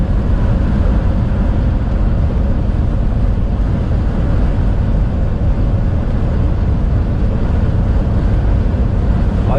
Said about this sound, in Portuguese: Todo esse barulho que você tá ouvindo aí é o vento.